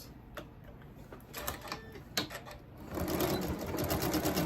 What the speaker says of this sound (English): So you just start sewing these together now.